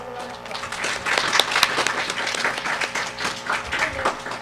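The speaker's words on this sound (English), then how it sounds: "And another round of applause." A room full of people applauds after a talk at a faith-based organizing and advocacy workshop, dense steady clapping at moderate volume that swells slightly in the middle, with a few voices faintly underneath.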